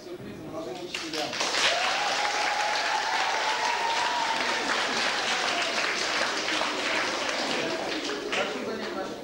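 An audience at a secondary school celebration applauds young teachers, a loud, continuous wash of clapping that builds in quickly and holds steady, with a voice briefly audible near the start.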